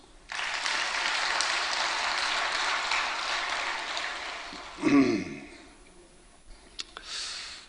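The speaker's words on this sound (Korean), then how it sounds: "박수." A church congregation applauds its choir, a broad steady wash of clapping that fills the room for about four and a half seconds, then breaks off into a few scattered claps and small noises.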